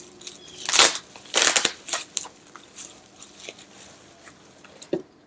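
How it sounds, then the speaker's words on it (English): Bubble wrap around a packed pipe is handled and crushed, giving bursts of crinkling crackle near the start and middle, then quieter rustles and a final sharp crackle. "Bubble wrap."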